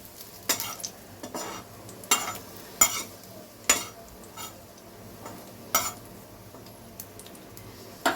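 Chillies fry in hot oil in a pan while being stirred, a steady sizzle broken by sharp, rhythmic scrapes and knocks of a spatula against the metal, close and clear.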